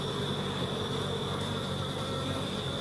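Honey bees at a small beehive in Jamaica give off a steady, close, continuous buzzing drone with no pauses or talking.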